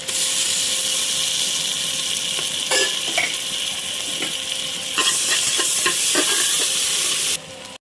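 Ginger garlic paste sautéing with onions in a pressure cooker, a loud continuous sizzle with intermittent spoon scrapes and clinks, cutting off abruptly at the end.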